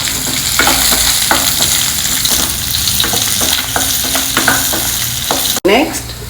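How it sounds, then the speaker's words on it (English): Chopped onions sizzle steadily in hot oil with curry leaves for a South Indian sambar, a loud, close frying hiss broken by regular spoon stirs and a brief knock near the end. "Next, add in the chopped onions."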